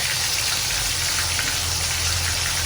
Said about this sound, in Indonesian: Ini suara hujannya buanter temen gitu.